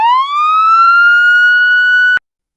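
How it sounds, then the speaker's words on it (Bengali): An animated ambulance siren sounds as a single clean, loud electronic wail that rises and holds steady for about two seconds, then stops abruptly. "কেশববাবু মেয়েকে অ্যাম্বুলেন্সে করে হাসপাতালে নিয়ে গেল"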